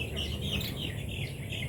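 Pet birds chirp near their cage, a quick run of short, high tweets over a low background murmur.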